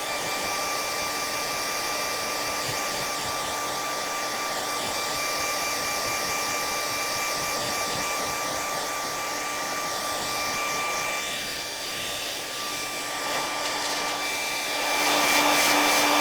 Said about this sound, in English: My hairdryer doesn't quite reach to the table.